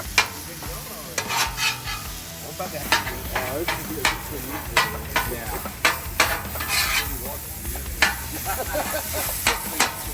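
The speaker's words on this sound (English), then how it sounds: "In the meantime, I preheated my griddle and started cooking some maple sausage" Maple sausage sizzles steadily on a preheated Blackstone griddle while a spatula scrapes and chops it in repeated sharp clacks across the flat top, close and fairly loud, with no talking.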